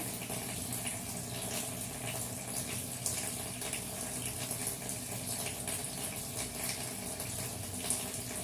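Tap water runs steadily as hands are scrubbed for a medical and surgical hand wash, a constant close hiss of splashing water with no talking.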